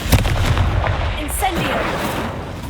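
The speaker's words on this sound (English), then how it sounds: "Confringo!" A Confringo spell blast fires in the video game Hogwarts Legacy, a loud, dense explosive burst with a rumbling boom that rolls on for a few seconds.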